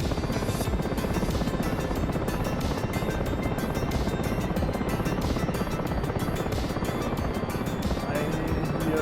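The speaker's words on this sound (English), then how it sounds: "we'll just have to heli taxi onto the runway and go from there." Helicopter in the DCS flight simulator ground-taxiing toward the runway, a constant rotor chop and turbine whine at steady level across the whole stretch.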